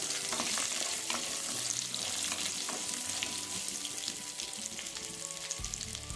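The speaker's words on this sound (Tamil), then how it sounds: "சின்ன வெங்காயம் சேர்த்து அதையும் நம்ம சேர்த்து வதக்கிக்கலாம்" Small shallots sautéing in a pan while preparing a foxtail amaranth thuvaiyal, with a steady close sizzle and occasional scraping stirs running continuously throughout.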